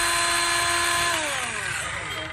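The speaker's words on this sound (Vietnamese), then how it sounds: "Rồi mình test cho anh em xem cái máy cưa." A Ryobi 18V cordless saw runs with a loud, steady whine that starts winding down near the end, close by and without talking.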